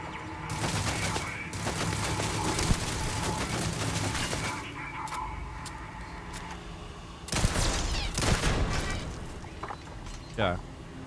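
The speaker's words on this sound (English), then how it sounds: "Shooting at us." Gunfire in the video game Starfield, dense rapid bursts of shots and a busy mechanical clatter, with a louder flurry later on and voices talking at times.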